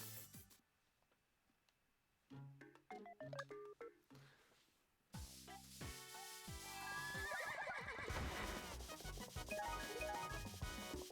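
A horse in the Miitopia video game whinnies loudly, answered by game music and chiming effects that swell into a dense, bright burst over the final seconds.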